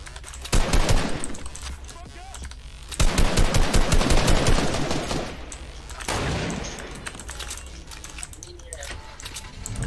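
Gunfire in a video game rattles out in loud rapid bursts, one short volley and then a longer one, while voices talk over the shooting.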